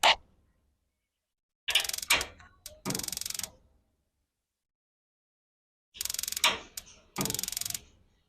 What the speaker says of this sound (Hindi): ये देखा आपने, एक बड़ी सी टक की भी आवाज आ रही है।